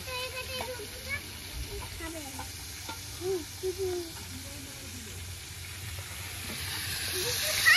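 Kohlrabi and potato pieces fry in a pan with salt and turmeric, a continuous close sizzle with occasional stirring scrapes while someone talks over it, the hiss rising toward the end.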